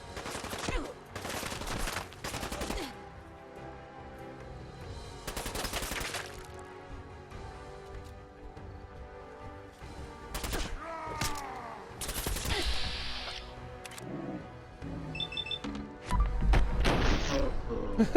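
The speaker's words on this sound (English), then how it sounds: "I think maybe a shotgun." Shotgun blasts in the Fallout 4 video game, several loud booming shots spaced irregularly among other combat thuds and crashes, with heavier impacts near the end.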